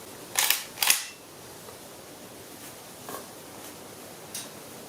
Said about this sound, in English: Let me test the trigger